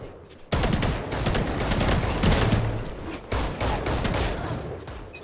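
Vandal rifle fire in a shooter video game, rapid bursts of loud, close gunshots that break off briefly and resume, with a dense rattling texture throughout.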